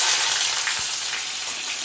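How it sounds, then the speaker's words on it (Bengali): Dried chillies frying in hot oil on a gas stove give off a steady, bright sizzle that keeps going with no pause. It sounds close and fills the whole clip, with no voices. "লঙ্কাটা ভেজে নেবো লাল করে"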